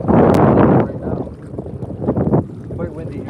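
Strong wind buffets the microphone while fishing from a boat on a lake, loud roaring gusts at first and then easing into steadier blustery rumble, with faint speech-like sounds mixed in.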